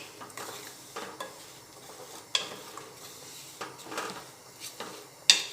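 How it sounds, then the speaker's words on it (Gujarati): Jaggery melting with a little ghee in a pan while being stirred continuously, soft scraping strokes and occasional light clinks of the spoon against the pan, close and fairly quiet. "હવે આ રીતે ચલાવતા થઈને આપણે ગોળ પીગળવાનું છે।"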